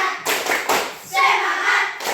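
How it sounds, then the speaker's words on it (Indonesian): A group claps the 'tepuk semangat' cheer, several sharp bursts of hand claps in a quick rhythm. Voices call along between and under the claps. "Tepuk semangat."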